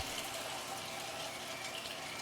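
An electric juicer takes in organic dinosaur kale with a steady, close whirring and wet churning that runs unbroken throughout, loud and alone, with no talk.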